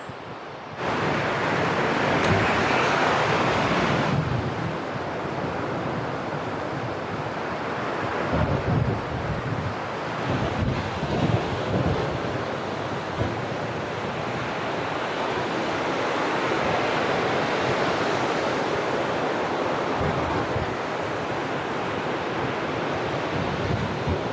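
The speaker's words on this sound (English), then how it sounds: "It's really a little bit too windy." Strong wind on a beach buffets the microphone in loud, roaring gusts, with a fast incoming tide's surf washing in the background; no voices.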